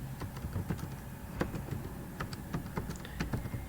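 A git push command goes in on a computer keyboard: quick, irregular key clicks tap close and clear, with a small burst of strokes and brief pauses.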